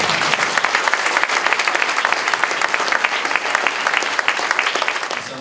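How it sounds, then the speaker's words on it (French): An audience at a town hall cheque presentation for a Telethon charity event applauds steadily, a dense sustained crowd of clapping hands that holds at an even level throughout. "On peut encore l'applaudir"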